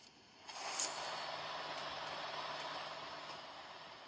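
Monster truck engine in a noisy chase scene, a steady heavy rumble with a brief hiss-like burst near the start, continuous and fairly loud, with no voices.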